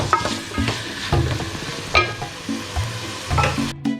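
Prawn kabsa ingredients frying in a pan, with a steady close sizzle broken by repeated scraping stirs and clinks of a spoon against the pan.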